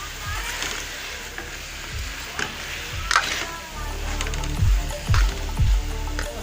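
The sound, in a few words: chicken frying in a pan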